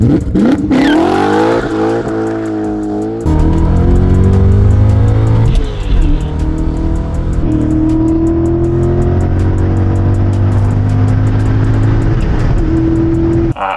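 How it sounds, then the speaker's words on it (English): A 2003 BMW M5 E39 with the S62 5-liter V8 and six-speed manual revs and accelerates hard through several gear changes, loud and close, with engine pitch climbing repeatedly and no talk. "This is my 2003 BMW M5. It's got the legendary S62 5-liter V8 mated to a 6-speed manual transmission"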